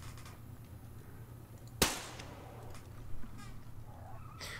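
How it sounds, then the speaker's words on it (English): A single sharp gunshot in the video game Metro Exodus, fired inside a quiet room with a low steady hum, followed by a brief fading ring and faint small clicks. "Can I shoot Anna?"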